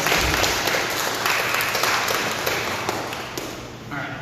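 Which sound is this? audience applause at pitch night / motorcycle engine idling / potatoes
audience applause at pitch night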